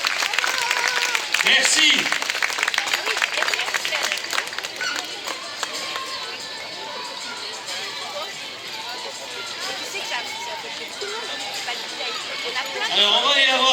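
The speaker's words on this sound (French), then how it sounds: "Je veux entendre les applaudissements pour cette troisième féminine." Spectators at a marathon finish line applaud and cheer the third-placed woman, a sustained crowd roar with scattered clapping running throughout while an announcer's voice and other talk carry over it.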